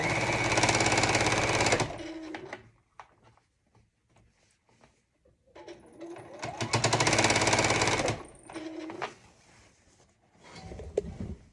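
A sewing machine stitches binding onto a quilt in two long, loud bursts of rapid mechanical rattling, separated by quieter handling noises and short stops, with a final brief run at the end.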